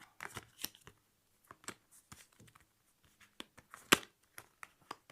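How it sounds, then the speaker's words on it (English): Cards from the Pirates of Maracaibo board game being quickly shuffled, a quiet run of sharp, uneven papery snaps and flicks with short pauses between bursts, close to the listener. "Quick shuffle, shuffle."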